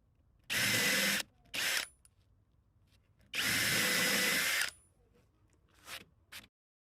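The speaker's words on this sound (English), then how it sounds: "it's now time to go around and drill some pilot holes" A power drill whirs in four bursts drilling pilot holes in a wooden garden gate, two long and two short, with quiet gaps and small clicks between them.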